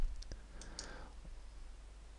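A few crisp mouse clicks while selecting link options in the WordPress editor, sharp and close, with short gaps between them and no talk.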